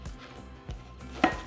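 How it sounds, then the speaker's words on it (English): A knife chops fresh cilantro on a cutting board in a few quick, close strokes with short pauses between them. "chopped cilantro"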